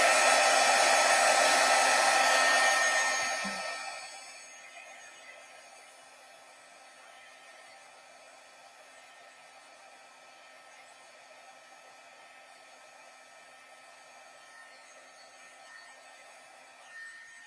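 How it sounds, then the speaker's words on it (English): A craft heat tool blows loudly and steadily for about four seconds while drying and heat setting stamped ink, then cuts off, leaving a faint background hum. "this ink, I do want to heat set that. So I'm going to dry this off."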